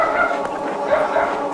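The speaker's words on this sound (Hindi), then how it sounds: "ऐसे कुत्ते भौंकना शुरू हो गए अचानक से।" Several dogs suddenly bark and yip in a quick, overlapping flurry at moderate distance, with a whimpering edge.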